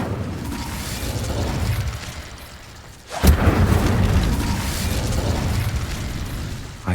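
A fire spell is cast in the game Hogwarts Legacy: a low rumbling swell gives way to a sudden loud whooshing burst of flame at about three seconds, then a sustained roaring crackle that carries on to the end.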